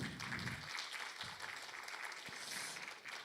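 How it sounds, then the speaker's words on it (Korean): An audience at an international accelerator symposium applauds after a lecture, a soft, fairly distant wash of clapping that stays even over a few seconds, with a few sharper individual claps standing out. "여러분 박수 부탁드립니다."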